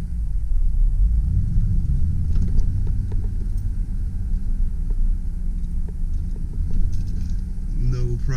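A 2000 Ford F-150 extended cab 4x4 with a 5-speed manual rolls in reverse, its engine rumbling low and loud throughout while someone talks over it.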